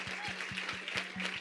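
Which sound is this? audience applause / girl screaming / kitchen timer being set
audience applause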